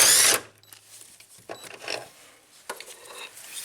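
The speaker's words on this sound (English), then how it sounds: "impact driver to get these bolts out" An impact driver spins out engine mount bolts: one loud, harsh burst right at the start, then quieter scattered clinks and handling noises nearby.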